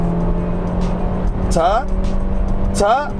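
A 2018 Kia Stonic gasoline car accelerates at full throttle in sixth gear on a highway, giving a loud, steady engine and road drone throughout, with brief voice-like sounds rising over it twice.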